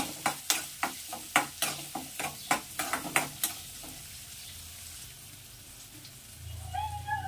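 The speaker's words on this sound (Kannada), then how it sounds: "ಈರುಳ್ಳಿನೂ ಅಷ್ಟೇ ಚೆನ್ನಾಗಿ ಫ್ರೈ ಮಾಡ್ಕೊಳ್ಳೋಣ" Onions frying in a pan of oil for a potato curry, with a run of sharp, regular stirring clacks from a utensil over a steady sizzle, then quieter frying near the end.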